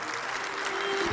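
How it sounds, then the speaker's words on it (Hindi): Brief burst of audience clapping at a public program in Chandigarh, a short, even patter of many hands at moderate volume. "तालियां बजाइए"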